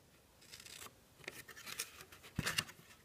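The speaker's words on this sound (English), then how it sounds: "I'm just going to go ahead and cut them out so I don't have to deal with them." Scissors snip small squares out of paper corners for a punch-board treat box, a few quiet, close cuts in short bursts with faint paper handling and no talk.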